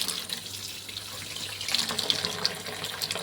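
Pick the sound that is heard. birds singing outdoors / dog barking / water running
water running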